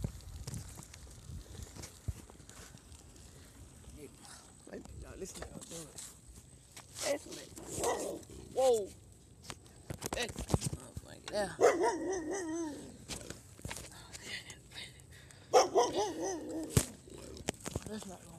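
A dog barks in several short bursts at a middle distance, scattered across a long stretch with quieter gaps and footsteps between them, while someone talks now and then.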